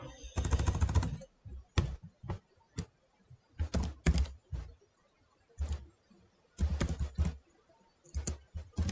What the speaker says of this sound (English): if I type on it.